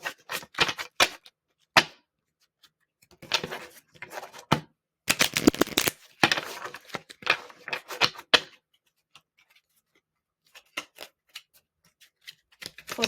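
Crisp clicking and shuffling of a tarot deck as a card is pulled, in irregular bursts of sharp taps and rustles separated by silences, close and fairly quiet.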